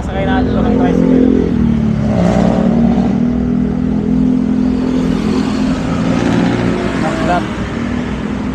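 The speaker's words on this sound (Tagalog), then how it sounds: "Sasakay natin ito ng tricycle." A motorized tricycle engine runs with a low, rumbling, slightly clattering drone that swells and eases, close by, while people talk over it.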